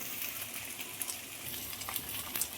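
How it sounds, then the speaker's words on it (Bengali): Potatoes and onions frying in a pan give a soft, steady sizzle with light scraping and clinking as they are stirred, quiet and close with no voices. "আলু দিয়ে খুব ভালোভাবে নেড়ে দেবো।"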